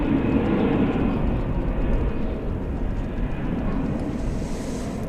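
A Delta jet departs DFW Airport bound for Minneapolis–St. Paul, its engines a steady, broad distant roar with no one speaking.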